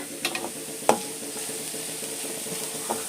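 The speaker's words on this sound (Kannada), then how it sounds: "ಒಂದು ಮೂರು ಈರುಳ್ಳಿ ಒಂದೇ ಒಂದು ಹಸಿಮೆಣ್ಸಿನ್ಕಾಯಿ ಹಾಕಿ ಈರುಳ್ಳಿ ಫ್ರೈ ಮಾಡ್ತಾ ಇದ್ದೀನಿ" Sliced onions and a green chili frying in a pan give a quiet steady sizzle, broken by a few soft clicks and clinks of stirring.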